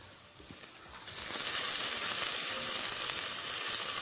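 Onions fry in a pan, giving a steady sizzle that grows louder after the first second and stays close and continuous, with no talking.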